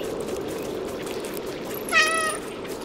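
A single short cat meow from the game Stray rises near the end over a faint, steady background hum, clear and fairly close.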